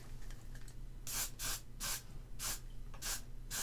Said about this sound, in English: now we're going to use some hairspray.